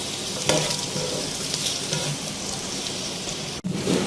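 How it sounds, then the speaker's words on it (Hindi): Finely chopped onions sizzle in hot oil in a pan, a dense steady crackle like light rain, heard close up and alone with no talk. "इस प्याज को हमें फ्राई करना है इस ऑयल में"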